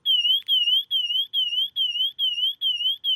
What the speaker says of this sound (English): If you hold that down for a few seconds, it'll actually sound an alarm,